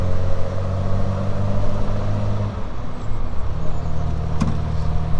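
A 1967 Triumph Vitesse 2 Litre with new electronic ignition drones steadily from inside the cabin while cruising in fourth gear around 1,700 RPM, its low engine hum shifting pitch midway, with road noise and no talking.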